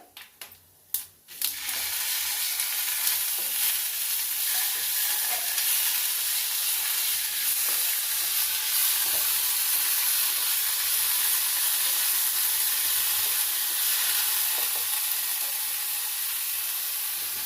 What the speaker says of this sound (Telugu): ఇప్పుడు ఉల్లిగడ్డలు వేస్తున్నానండి.